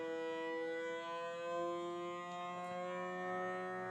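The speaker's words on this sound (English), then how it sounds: "we're going to do vac and seal. So we'll just press that button and it's going to do its thing." A HODAY food vacuum sealer runs its vac and seal cycle, giving a steady, tonal motor whine that holds at an even, moderate level throughout.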